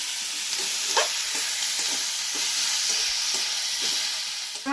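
Onions frying in oil for a Bengali chicken curry hiss in an even, close sizzle, with soft repeated scrapes of a stirring spoon throughout.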